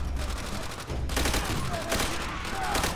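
Gunfire from the World War II shooter Call of Duty: World at War fills the scene, a dense, continuous rattle of bursts with a few louder cracks, while voices shout over the battle.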